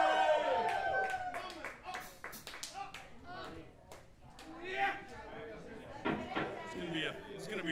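Live audience at a music venue, The Acoustic in Bridgeport, clapping and cheering for a performer, dense applause mixed with scattered voices and shouts throughout.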